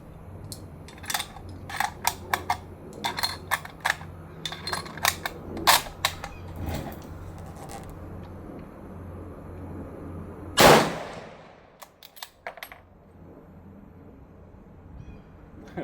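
A Navy Arms Quest Extreme Carbine rifle fires one loud, close gunshot with a ringing tail outdoors, preceded by a series of sharp mechanical clicks and handling knocks.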